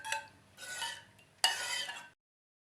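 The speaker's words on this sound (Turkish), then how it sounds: "Şimdi karıştırıp tatlımın üzerine ilave edeceğim." A spoon scrapes and stirs in a bowl as a cup of vegetable oil is mixed for a layered Turkish dessert, three short close bursts of clinking and swishing separated by brief pauses.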